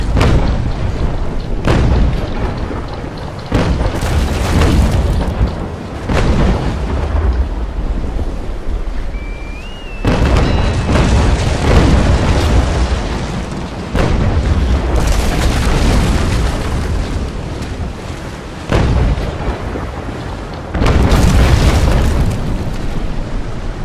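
Cannons firing from a brig during a naval battle video game: a series of heavy, booming blasts that roll and decay, loud and close, with roaring wind between shots and no speech.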